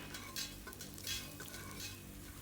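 Chilli and garlic tempering being stirred in a hot oiled pan, a continuous close sizzle with three bursts of scraping and crackling as the spoon moves, no voices over it.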